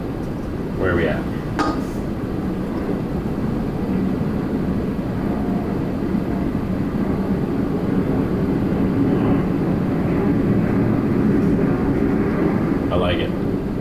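A KLM airliner roars past at Toronto Pearson airport, a steady loud jet rumble filling the whole stretch, with people talking nearby and a few sharp clanks.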